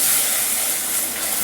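Cream hitting hot caramel in a pan gives a steady, loud hiss of sizzling and steam that holds unbroken through the whole moment, close up, with no voices.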